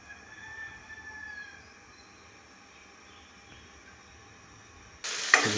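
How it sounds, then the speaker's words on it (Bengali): Oil sizzles faintly in a kadai as beef curry cooking begins, a soft steady hiss for several seconds before a louder, brighter burst of frying near the end. "দেখেন বন্ধুরা, কড়াইতে তেল দিয়ে দিচ্ছি।"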